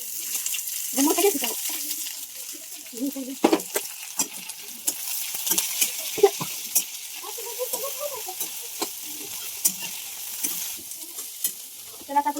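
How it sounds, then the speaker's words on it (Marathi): Okra roasting in a pan with chili, garlic and onion, a soft sizzle under repeated scraping stirs, with water running and brief voice sounds in between. "आता आपण चांगलं भाजून घेऊ चांगला पहिला हलवून घ्यायचं सगळ्या भेंडीला"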